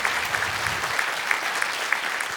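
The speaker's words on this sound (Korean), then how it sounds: "큰 박수로 환영해 주시기 바랍니다" A studio audience on a live Korean morning television show applauds steadily to welcome descendants of independence activists, a dense, even wash of many hands clapping close by with a few sharper claps standing out.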